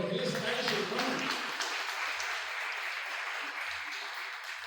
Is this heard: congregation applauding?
yes